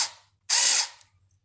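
A screw is driven lightly into a wall plug sitting in an oversized wall hole, giving two short buzzing, ratcheting bursts, the second louder and longer, with quiet gaps between.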